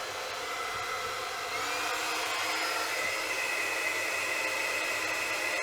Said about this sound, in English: That's 82 watts to run a hairdryer on low.